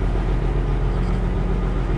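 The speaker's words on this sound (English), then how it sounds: "In the meantime, the truck will warm up." A Freightliner Classic XL truck engine idles as it warms up, a steady, loud low rumble close by with no talk over it.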